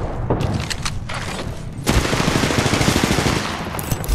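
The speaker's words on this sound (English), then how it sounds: "Opening fire. They spotted me. I'm taking shots." Gunfire in a shooter video game: rapid automatic bursts crackle close and loud, a few separate shots come first, then a dense, sustained volley fills the rest.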